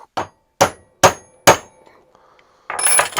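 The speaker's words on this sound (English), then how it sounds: "and maybe take a heavier hammer." A heavy hammer strikes a metal rivet four times in a steady rhythm, each blow a sharp, close, ringing clang, followed by a burst of scraping noise.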